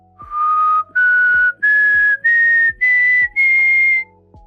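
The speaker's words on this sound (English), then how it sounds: "So in theory, when you whistle," A person whistles a rising series of six sustained notes, each a little higher than the last, with short breaks between them. The whistling is clear and close, with no talking.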